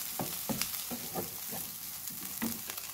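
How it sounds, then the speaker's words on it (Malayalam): Chicken and egg fry in a pan while being stirred, a continuous soft sizzle punctuated by a handful of quick spatula scrapes and taps in an uneven rhythm, close and fairly quiet, with no talking. "രണ്ട് മിനിറ്റ് കഴിഞ്ഞ് ഇതിൻ്റെ അടപ്പൊന്ന് മാറ്റിയിട്ട് ഇതൊന്ന് ഇളക്കി കൊടുക്കും"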